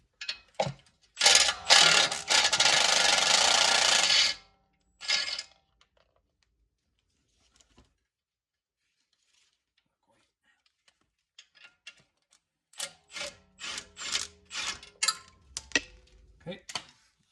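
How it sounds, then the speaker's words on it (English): A ratchet unbolting the sway bar link on a BMW M340, giving a sharp burst of rapid clicking, a short pause, then a run of quick mechanical ticks and clacks, close and loud, with stretches of silence between. "Now we're going to go ahead and unbolt the sway bar link"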